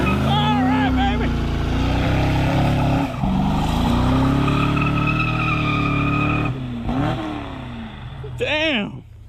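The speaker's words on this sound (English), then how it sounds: "Still doing one-wheel burnouts, so we were gonna try to wet it." A Fox Body Ford LTD does one-wheel burnouts, its engine revving loud and steady while the tires screech and skid, then the engine rises and falls near the end.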